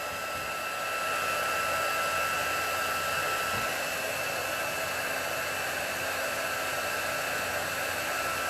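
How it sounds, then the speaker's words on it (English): A pink handheld heat tool blows steadily, melting embossing powder and puffing gesso on canvas, a constant close whooshing hiss of airflow running the whole time with no voices. "Oh wow, love the pink heat tool."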